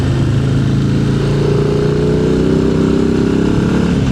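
A Harley-Davidson Low Rider ST motorcycle engine drones steadily while riding, a loud low rumble with a slight rise in pitch partway through, heard alone with no talking.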